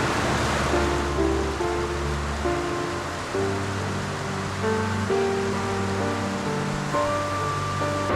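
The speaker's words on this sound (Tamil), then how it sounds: "வெளியில் சரியான மழையாக இருக்குது" Heavy rain pours steadily outside at a university campus in Kandy, a dense continuous hiss with no letup, overlaid by faint tonal background sounds throughout.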